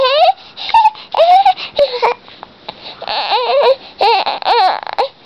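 An infant cries loudly and close by in rising and falling wails and whimpers, broken by short breaths, continuing for several seconds.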